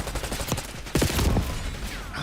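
Gunfire in Call of Duty Black Ops 6 rattles in scattered shots, then a dense rapid burst, loud and close.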